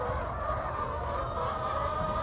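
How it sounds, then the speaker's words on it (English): Chickens, hens and roosters at a chicken farm make a steady, dense mass of clucking and honk-like calls, continuous and moderately loud throughout with no talking. "chickens, hens, roosters, whatever these things are called"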